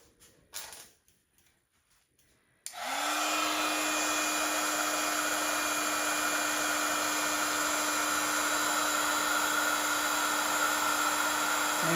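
A heat gun switches on abruptly after a few quiet knocks and then blows hot air in a loud, continuous whooshing roar with a steady whine, close by and uninterrupted.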